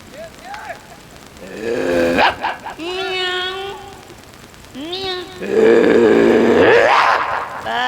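Performers in a Ramlila comedy skit vocally imitate a dog and a cat, with growls, whining barks and yowling cries traded back and forth at close range, loud and rising toward the end.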